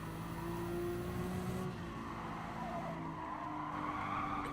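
Tires skid and scrub as a car understeers through a corner in the GT Sport racing game, a steady squeal over the drone of the engine, loud and continuous with no talk.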